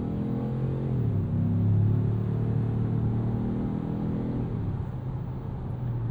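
A 2025 Ford Maverick Lobo compact street truck with a turbo engine, driving with a low, grunty engine drone that rises briefly under acceleration and then settles, heard from inside the cabin.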